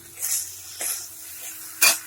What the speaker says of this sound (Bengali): মশলাটা কষানো হয়